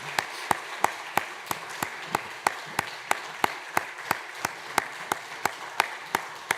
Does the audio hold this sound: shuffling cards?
no